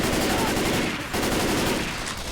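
Rapid automatic gunfire in a shooter video game rattles on almost continuously, loud and dense, with a brief dip near the middle before the bursts resume.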